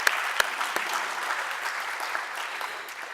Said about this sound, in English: Give yourself a round of applause for your participation.